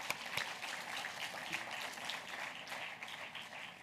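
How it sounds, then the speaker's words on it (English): Audience applause at an annual architects' conference in Rubavu, Rwanda: steady, moderately quiet clapping from a crowd filling the whole stretch without pause. "A round of applause."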